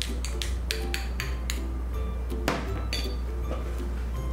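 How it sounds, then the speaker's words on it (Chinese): A utensil stirs a sauce of garlic, chili, coriander and hot water in a bowl, giving a series of crisp clinks and taps against the side at an uneven rhythm over a low steady background hum. "搅拌均匀"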